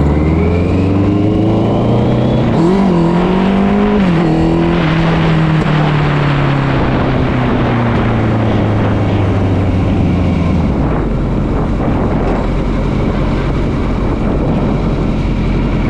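A 2009 Kawasaki ZX 1400 sport motorcycle engine under way, a loud steady drone that rises and dips as the rider works the throttle, with wind noise taking over toward the end.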